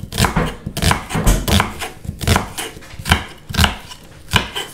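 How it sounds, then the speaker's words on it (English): Onions chopped with a knife on a board for an ale beef pie, a close series of irregular, sharp knocks about a dozen times over a few seconds, no talking. "There we go, onions chopped."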